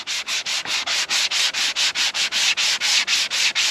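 Varnished wood inside a sailboat is hand sanded up close, about sixteen even back-and-forth rasping strokes in a steady rhythm, with no voices.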